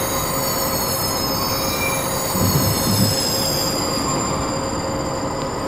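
A passenger train in Train Simulator 2017 pulls away, with steady rolling rail noise, metallic wheel squeal and sustained high tones held throughout at an even, fairly loud level, no voices.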